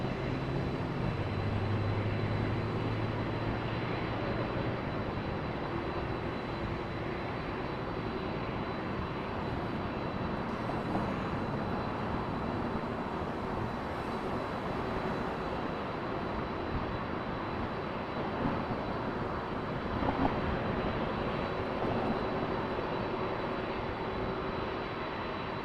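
An airliner departing Toronto Pearson Airport roars steadily throughout, a broad continuous engine rumble at a distance with no talk over it.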